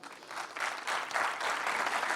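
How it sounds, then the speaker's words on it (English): Applause from an audience at the FIFA Interactive World Cup 2013 final: a dense, steady clapping that swells quickly and holds for a couple of seconds, with no talk. "please give us a big round of applause"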